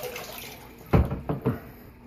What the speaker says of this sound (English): then I have a submersible pump.